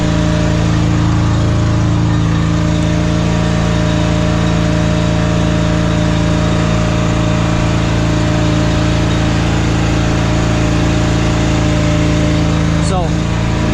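An XL HDG 70 mini deck mower's engine runs at raised throttle with a loud, steady mechanical drone throughout, with a person talking over it.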